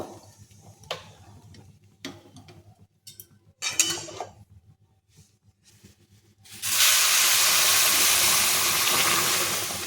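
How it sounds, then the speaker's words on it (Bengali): Hot water poured into a pot of Gobindobhog rice khichuri: a few light clinks and ticks of utensils, then a sudden loud, sustained hiss as the water hits the hot pot, close by and without speech. "এবার একটু গরম জলটা দিয়ে দেব"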